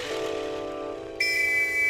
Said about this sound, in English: Someone else blew a whistle.